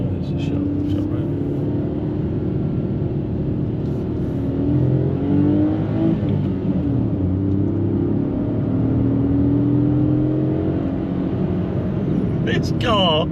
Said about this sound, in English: It's one of those cars where you can really, really rev it out